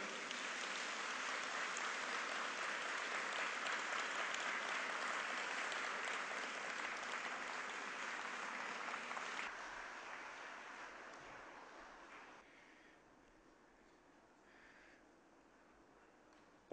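An audience in a lecture hall welcomes a speaker to the stage with sustained, even applause that holds strongly for about nine seconds, then thins and fades to a few scattered claps and quiet.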